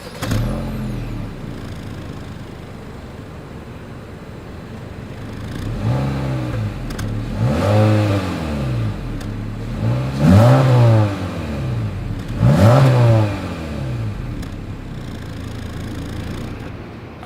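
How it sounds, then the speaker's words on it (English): A 2022 Honda Civic Sport's exhaust idles, then is revved four times in spaced bursts, each rising and falling back to a steady idle, heard up close with no talk. "As always, here is that exhaust clip."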